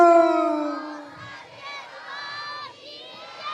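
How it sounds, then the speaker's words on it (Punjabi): A crowd of devotees raises a loud devotional jaikara shout to goddess Sheetla at the Mata Sheetla temple in Banga, many voices swelling together at once, then carrying on as a rougher, sustained roar. "ਮਾਂ ਸ਼ੀਤਲਾ ਦੇ ਜੇ ਜੈਕਾਰੇ ਦੇ ਰੂਪ ਚ ਆਪਾਂ ਹਾਜ਼ਰੀ ਲਗਾਣੀ ਹੈ"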